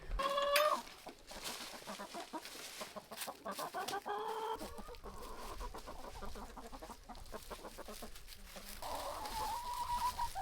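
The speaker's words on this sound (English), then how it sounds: "Let's let some of these chickens out today." Chickens cluck and squawk repeatedly nearby, with a rooster-like call at the start and busy rustling in the background; no one speaks.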